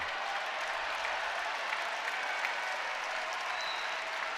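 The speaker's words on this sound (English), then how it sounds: "Some added noise from the crowd here at Devaney" Volleyball crowd at Devaney Center during a Big Ten match, Rutgers at Nebraska, roaring and cheering in a steady, dense wash of noise that holds evenly throughout with no clear voices standing out.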